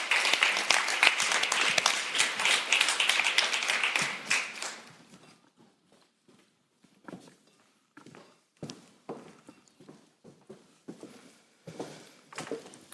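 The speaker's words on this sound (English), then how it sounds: "Can I ask my panelists to please join me and actually get some of the applause" Conference audience applauds as panelists join the speaker on stage, a burst of clapping for about four seconds that dies away, followed by scattered footsteps and taps.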